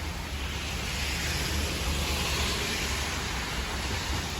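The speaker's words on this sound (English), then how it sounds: "I don't know how long it's been raining for." Rain falls steadily outside, a soft, even, broadband hiss with no distinct drops or voices, continuous and moderately faint throughout.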